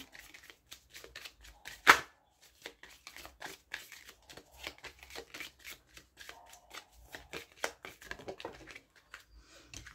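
Tarot cards being shuffled and drawn by hand, a quick irregular run of soft riffles, flicks and taps close to the microphone with one sharp slap near the start, and no talk over it.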